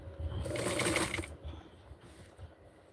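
Sewing machine stitching vintage 1960s barkcloth, a dense mechanical whir that swells for about a second near the start, then settles into faint background rattle.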